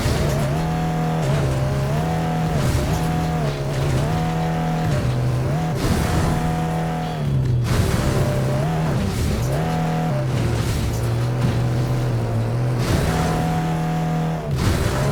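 A racing-game car drives at full throttle in Fuel, its engine droning loudly and steadily with pitch rising and falling as it shifts, plus intermittent tire squeal and bumps.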